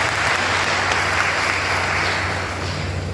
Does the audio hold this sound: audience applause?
yes